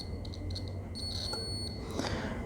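Multimeter continuity tester beeping while probing a phone circuit board, with short electronic tones over a steady hum and a longer tone near the end.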